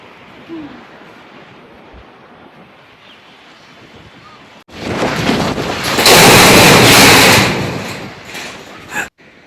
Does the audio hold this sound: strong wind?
yes